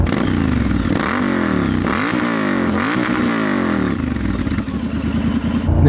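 A Triumph Scrambler 1200 XE motorcycle with an aftermarket exhaust revs hard several times with a deep, throaty, aggressive exhaust note, rising and falling in pitch, loud and close.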